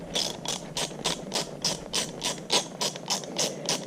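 A socket ratchet with a 9/16 inch socket backs out 3/8 inch bolts from the rear axle bearing cap of an IHC Farmall Super MTA tractor, giving steady, rapid, close-up clicking bursts in a regular rhythm.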